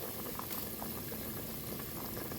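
Plum and celery stew simmers over low heat in a covered pot, giving a faint, continuous bubbling hiss with soft pops throughout.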